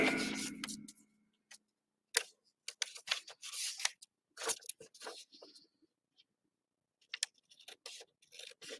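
Paper being cut down with scissors while altering a book into a journal: a run of crisp, quick snips and rustles in short bursts with pauses, close and fairly quiet.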